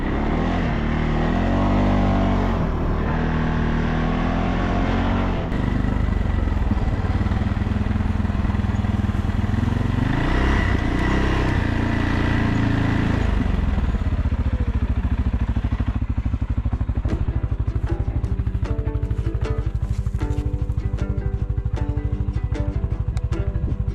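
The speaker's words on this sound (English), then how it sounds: "The wind in your face and the sweet song of the sound of that motor." Small motor vehicle engine running steadily during a trail ride near a barndominium build, a loud continuous drone with shifting pitch as it revs up and down, close throughout with clattering toward the end.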